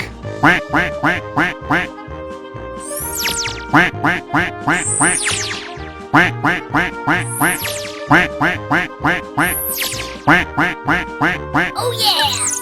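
A duck quacks over and over in loud, rhythmic bursts, set against a bouncy children's farm song with music playing throughout.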